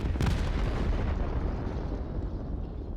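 Rocket strikes pound artillery pieces in the Line War strategy game, a dense, continuous rumble of explosions with an initial burst, heavy and sustained throughout.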